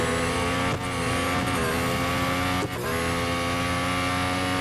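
Formula 1 car engine droning loudly and continuously on a test lap in Real Racing 3, steady high revs with two brief dips as the car shifts or lifts.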